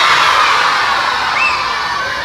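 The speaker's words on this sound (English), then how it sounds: "let me hear you scream out your role model" Elementary school children scream and shout out names all at once, a loud, dense wall of young voices with cheering that holds steady and fades only slightly, filling the room.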